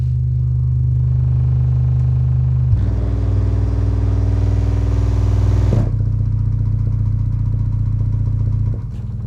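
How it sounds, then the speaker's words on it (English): A JTR Captivator RS2 home theater subwoofer plays loud deep bass that sets the room rattling and shaking, a continuous heavy rumble with buzzing clatter that shifts in pitch partway through. "there was a lot of rattling going on in this room"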